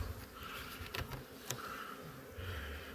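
Honeybees buzzing steadily around plastic beehives, a continuous close droning hum with a few brief knocks and rustles.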